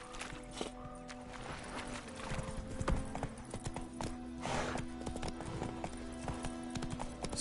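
Roach the horse's hooves clip-clopping in The Witcher 3 video game, a steady walking rhythm of hoofbeats over ambient game background.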